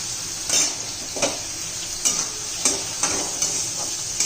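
Tomatoes sautéed with browned onions sizzle in a pan while a spoon scrapes and stirs in regular strokes, each stroke a brief scraping swish over the constant frying hiss.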